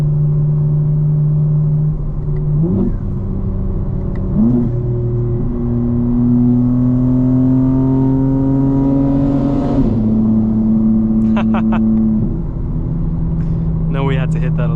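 A 2025 BMW M4 Competition xDrive idles and revs, its engine tone rising and falling through several gear-like steps with crackling exhaust burble at the end, loud and close from inside the car, mixed with talk.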